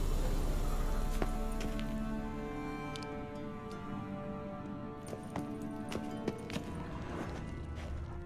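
Horse hooves clip-clop in The Witcher 3, a soft, uneven run of muffled steps over a steady musical backdrop, with no clear neigh.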